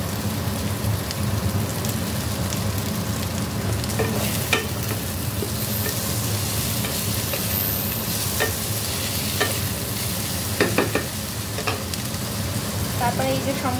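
Tomatoes fry in a pan for a fish curry, a loud, dense sizzle like rain that runs on without a break, with a few sharp stirring scrapes near the middle and end.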